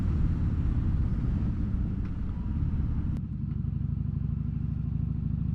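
A Harley-Davidson Dyna Fat Bob (FXDF) motorcycle rumbles along on a ride, a deep steady engine drone with a slight shift in tone midway, heard alone.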